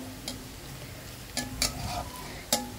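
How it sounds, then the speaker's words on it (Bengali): Chopped onion and garlic fry in soybean oil with dried chilies, a quiet steady sizzle punctuated by three or four sharp taps and scrapes of a utensil against the pan, with no voices. "পেঁয়াজ আর রসুন কুচিটা আগে একটু তেলে ভালোভাবে ভেজে নেব"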